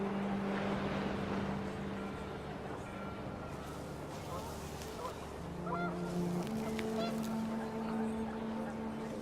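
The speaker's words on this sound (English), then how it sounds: "The wind picked up, and panicked geese appeared and quickly went." Panicked geese honk repeatedly in a scene from the video game What Remains of Edith Finch, their calls rising over a steady wind-like background as a voice talks throughout.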